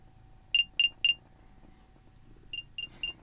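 Apple AirPods Pro 2 emit Find My play-sound beeps: a quick set of three bright chirps, a pause, then three softer chirps, faint against a quiet room.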